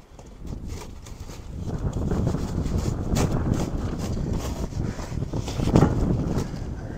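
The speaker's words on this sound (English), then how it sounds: "Because it's still windy." Strong outdoor wind buffets the microphone in loud, continuous low rumbling gusts, swelling and easing without pause.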